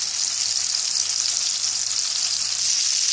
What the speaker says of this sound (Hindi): मैं कबाब ऐड कर चुकी हूँ और मैं इसको बिल्कुल भी पलटूंगी नहीं और ऊपर से कवर भी नहीं करूँगी और इसको कुक होने देंगे